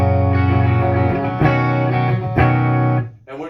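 An electric guitar on its bridge pickup runs through a Crate GT3500H solid-state head on the super distortion channel. Loud, bright, saturated chords ring out and sustain, restruck about three times before cutting off.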